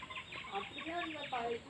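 Chickens in a village yard, about ten to fifteen hens, cluck repeatedly in short, nearby bursts, a busy overlapping chatter of calls.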